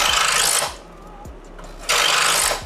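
A knife blade sawing through steak close by: two long, harsh scraping strokes with a quieter stretch between them.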